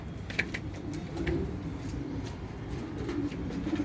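Racing pigeons coo softly in a loft, with low repeated calls and a few faint chirps over a steady noisy background, with no talk.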